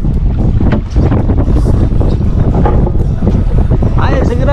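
Strong wind at sea buffets a fishing boat, roaring steadily and loudly across the microphone along with water and hull noise, while voices talk over it.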